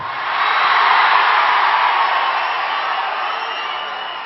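An audience at a Telugu film audio launch for Srimanthudu claps and cheers in a dense, steady roar of applause that fills the whole stretch, without any clear voices.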